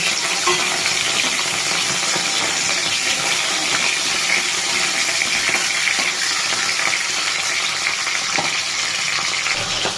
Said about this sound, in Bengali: কড়াইতে তেল গরম হয়ে গেছে, মাথাটা ভেজে নিচ্ছি।